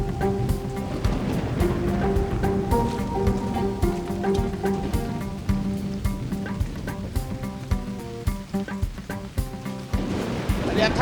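Heavy rain pours in a steady broadband hiss beneath background music and voices speaking, continuous and fairly loud throughout.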